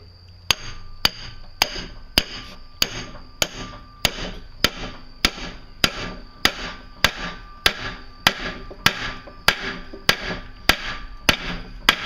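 Hammer blows on a pickle fork against cast iron while separating the front end of a Fiat 124 Spider, about twenty sharp, evenly spaced metallic strikes with ringing decay, close and loud, no talk.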